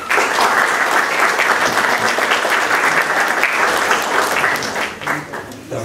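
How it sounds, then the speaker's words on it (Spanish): At a book presentation on nineteenth-century Latin America, an audience claps loudly and continuously for the speakers, a thick, even roar of many hands that tapers slightly near the end. "Por favor, un fuerte aplauso."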